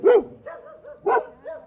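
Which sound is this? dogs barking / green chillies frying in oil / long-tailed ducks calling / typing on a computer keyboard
dogs barking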